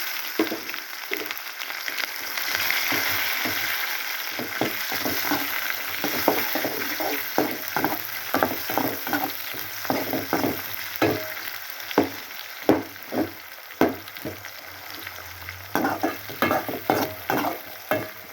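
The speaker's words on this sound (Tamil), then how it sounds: "இப்போ எண்ணெய் காஞ்சிருச்சுங்க கொஞ்சமாக சோம்பு போட்டு தாளிச்சுக்குவோம்" Hot oil crackles and sizzles steadily as fennel seeds fry, while a utensil scrapes and stirs in irregular clicks, close by and with no voices.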